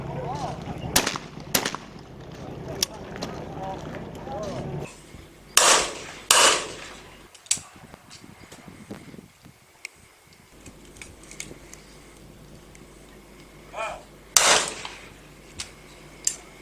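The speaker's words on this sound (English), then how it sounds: "Here we can see Rob Haynes shooting off" Shotgun blasts ring out at a trap shooting grand prix shoot-off, a handful of sharp reports spaced several seconds apart, some echoing at middle distance, with faint background voices between shots.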